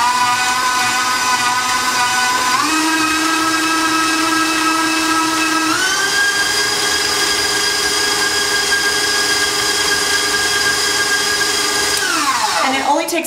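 An electric stand mixer whirring loudly as it beats cream cheese with onions, a steady motor whine that steps up in speed twice before winding down at the end.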